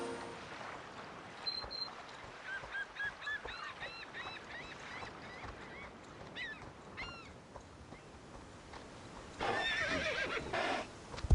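A horse whinnies a few times in Star Stable amid soft ambient game sounds and light footsteps, ending with a louder burst of bird-like honking.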